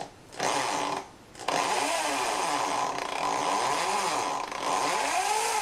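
A drill bores through the thick steel table of an RF clone ZX45 milling machine with cutting oil, a loud, whining motor that starts, briefly stops, then grinds on steadily up close.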